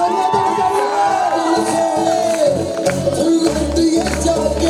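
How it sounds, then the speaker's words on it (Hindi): A lively audience at a Hindi stage event claps and cheers, a dense continuous crowd sound holding steady throughout with broad applause texture and scattered voices. "तालियां बजाइए, कमाल!"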